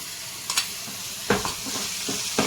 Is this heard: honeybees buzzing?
no